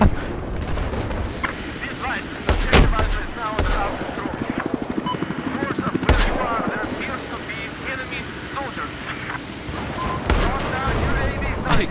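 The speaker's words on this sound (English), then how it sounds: "I got my machine gun ready to kill people. I killed someone with my grenade launcher thing." Rapid machine-gun bursts and heavy grenade-launcher blasts from a Battlefield 4 firefight, loud and dense throughout, with sharp explosive spikes and a voice talking underneath.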